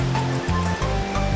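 An artificial waterfall in a Zhangjiajie canyon pours through a channel cut between rock walls, a loud, close, continuous rushing roar with no voices.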